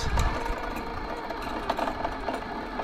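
A welder lays a bead with wet, rusty welding wire on a sand buggy build, giving a continuous, rough, sputtering crackle close up with no pause.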